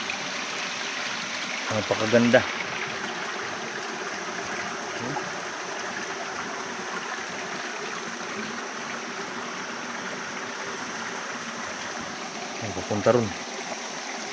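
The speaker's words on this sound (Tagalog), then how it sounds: "Ito ang source ng tubig." Spring water flows and trickles from its source, a steady broadband rush that runs throughout, while people briefly speak over it at the start and near the end.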